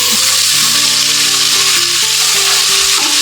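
Finely chopped small shallots fry with garam masala in hot oil in an electric rice cooker for chicken biryani, giving a loud, close, continuous sizzle with brief stirring scrapes and no voices.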